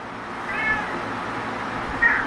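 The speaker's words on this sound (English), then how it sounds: "The cat's in heat." A female cat in heat meows twice, faint and drawn out, with a short gap between calls over a steady hum of room noise.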